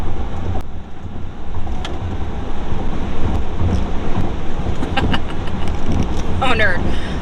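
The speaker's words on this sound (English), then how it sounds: "This car is a blast to drive." An Audi e-tron GT Premium Plus electric car on the road, heard as a loud, steady roar of road and wind noise with no engine note, continuous throughout.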